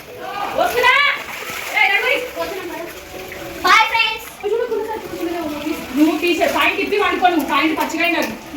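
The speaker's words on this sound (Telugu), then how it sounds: "వాటర్ వెళ్ళిపోతున్నాయి." Floodwater from heavy rain splashing and flowing steadily out of a house nearby while several voices, including a child's, talk loudly over it.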